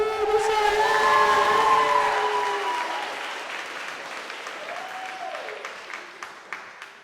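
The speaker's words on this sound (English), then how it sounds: "Can we give them another round of applause?" An audience applauds at a race-themed youth showcase, a dense wash of clapping with whoops and cheers that swells loud at first, then thins and fades into scattered claps.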